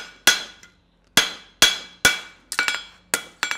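Hammer blows on hot metal over an anvil during blacksmith forging, ringing sharp metallic strikes spaced irregularly, some single and some in quick doubles, each with a short bright decay, close and loud with no talk.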